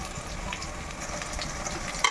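Ground spice paste for a Tamil kari kuzhambu frying in hot oil, a steady close sizzle with faint stirring scrapes and a sharper clatter near the end, no voices.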